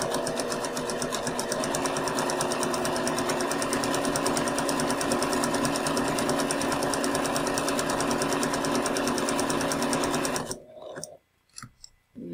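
A sewing machine runs continuously for about ten seconds stitching a zigzag seam finish, a fast steady mechanical whir and tapping, then stops and is followed by a few small clicks and handling noises.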